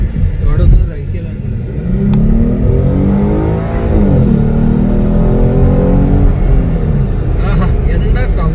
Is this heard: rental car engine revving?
yes